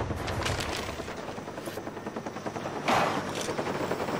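Chopper gunner helicopter in Call of Duty: Black Ops: a steady, loud rotor drone runs throughout, with a brief surge of heavier gunfire-like noise near the end.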